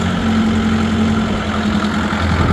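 Heavy tractor engine drones loudly up close with a low steady hum, rising slightly in pitch near the end.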